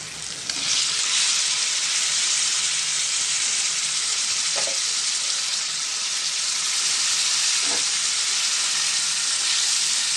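Bitter gourd pieces fry in a pan with ginger-garlic paste, giving a loud, steady sizzle throughout, with two soft stirring clinks partway through.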